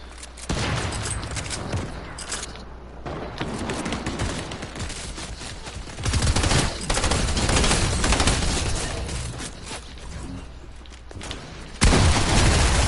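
Rapid bursts of video game gunfire from an online shooter with a micro SMG, an AA-12 shotgun and a sniper rifle, dense and continuous with heavier shotgun-like blasts near 6 and 12 seconds, loud and close with no talking.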